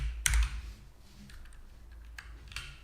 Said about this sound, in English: when you're typing live